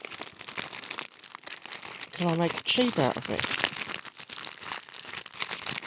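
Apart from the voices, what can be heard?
folding and crinkling a piece of card from a book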